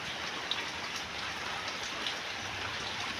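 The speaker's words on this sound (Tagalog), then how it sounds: "Ang lakas po ng naiulan." Heavy rain pours down steadily in a dense, even hiss, with a couple of sharper drops standing out briefly.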